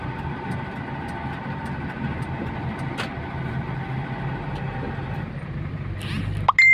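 A motor vehicle engine drones at a steady, moderately loud level throughout while overtaking, with a brief clunk partway through and some handling noise at the very end.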